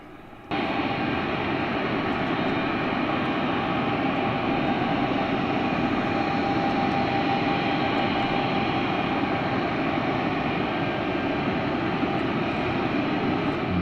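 Steady, loud jet engine roar with a high whine, sustained without a break after a sudden start, as an English Electric Lightning jet fast-taxis along the ground.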